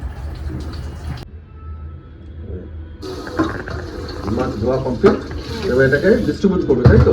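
Water runs and splashes as food is rinsed in a sink, starting as a steady flow and growing busier and louder with clattering toward the end.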